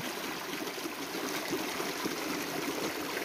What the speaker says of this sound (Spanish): Aquí pasa el río